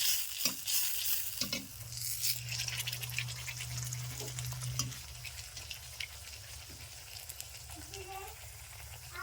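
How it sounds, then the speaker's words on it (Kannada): Poori frying in hot oil, with bubbling sizzle and scattered crackles close by, a low hum underneath and some faint voice in the background. "ಇದೇ ರೀತಿ ಎಲ್ಲ ಪೂರಿನ ಫ್ರೈ ಮಾಡ್ಕೊಂಡು ತಗೋತೀನಿ ನಾನು"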